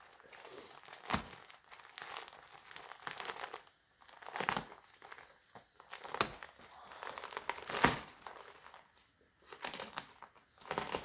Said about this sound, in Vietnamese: Đây là hai bịch giấy khô đá lằn. Đây, mình sẽ nhấc một bịch ra nhé.